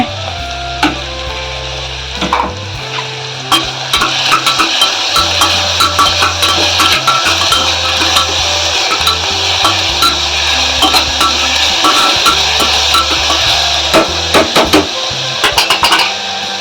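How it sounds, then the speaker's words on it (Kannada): Chopped masala sizzles and fries in hot oil for radish pulav, with a steady crackling hiss and scattered sharp pops and clinks of stirring throughout. "ಕಡಿದ ಮಸಾಲೆ ಸಹ ಹಾಕ್ತೇನೆ ಇದಕ್ಕೆ ಹುರಿಲಿಕ್ಕೆ"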